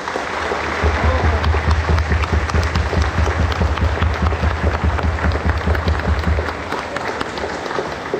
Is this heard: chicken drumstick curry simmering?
no